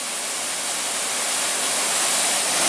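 Water pours steadily down a waterfall on a hiking trail, a dense, continuous roar heard close up at the base of the falls, filling the whole clip with rushing noise that builds slightly toward the end.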